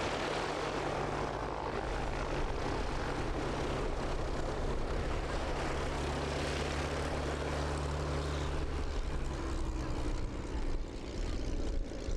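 SV-4C biplanes in Vic formation flying a display pass at an air festival, a loud sustained propeller drone throughout with droning engine tones.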